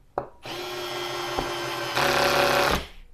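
A cordless screwdriver on its second clutch setting drives a screw into pine, whirring steadily after a short tap, then rising to a louder, harsher grind for under a second before stopping abruptly, close up.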